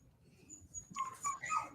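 Dog whimpering and yipping, a few high, thin whines in quick succession in an indoor room, moderately near and fairly faint, with no talk over them.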